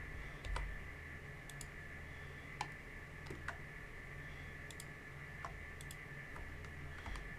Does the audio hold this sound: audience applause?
no